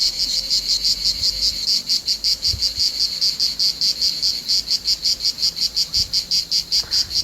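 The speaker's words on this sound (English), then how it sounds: "the temperature dropped last night and the cicadas came back to life." Dense, rhythmic pulsing buzz of cicadas, steady and fairly close, continuing throughout with faint low thumps underneath.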